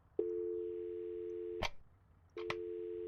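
A steady telephone dial tone from a handset in the VR game I Expect You To Die plays loudly for about a second and a half, cuts out after a click, then resumes after a pause with more handling clicks.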